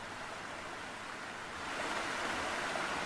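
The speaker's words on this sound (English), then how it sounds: "I can hear the lapping of the water from there." Lapping water ambience from a Foundry VTT tabletop game plays as soft, steady washing noise, faint and continuous, rising a little in level halfway through with no voices.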